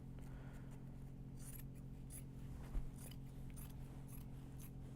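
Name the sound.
scissors trimming fabric for Kato project bags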